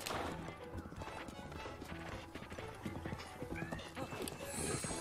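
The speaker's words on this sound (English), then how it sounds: "His horse is actually pretty fast." A horse gallops in the video game The Legend of Zelda: Breath of the Wild, with rapid rhythmic hoofbeats under a busy game soundtrack and a brief whinny.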